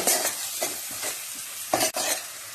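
Red chili powder and coriander-cumin powder are stirred into sizzling onions in a pan. Two or three loud, close scraping strokes cut through a steady frying hiss, with no voices.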